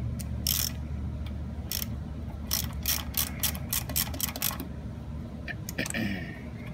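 Screw being tightened into a shop-made metal work-holding fixture, giving bursts of rapid ratcheting clicks in quick runs over a steady low room hum, close and fairly loud, with no talking.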